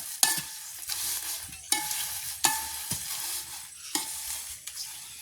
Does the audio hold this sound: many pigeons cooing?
no